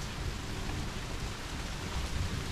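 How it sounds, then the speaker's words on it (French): Heavy rain pours outside in a dense, steady hiss of drops on surfaces, continuous and fairly close, with no voices. "Il n'est pas beau le temps, t'as vu? Il pleut beaucoup, hein?"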